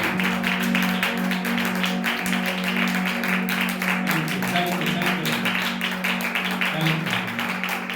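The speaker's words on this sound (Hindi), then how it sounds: "प्रशंसा के लिए ताली बजा के उसके नाम पे तारीफ करो" A congregation claps together in praise during a church service at Eternal Life Church in Bathinda, Punjab. The clapping is dense and continuous over steady musical tones and voices.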